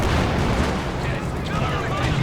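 A grenade blast in the Company of Heroes 2 video game, a dense, loud roar of explosion and battle noise filling the short moment and continuing steadily throughout.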